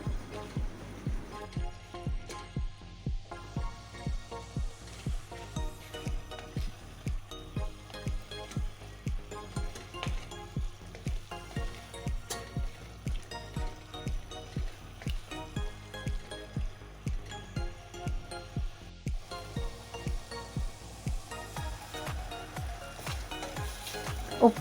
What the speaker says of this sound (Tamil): இது எல்லாத்தையும் ஒரு 5 நிமிஷம் நல்லா வதக்கிக்கலாம்.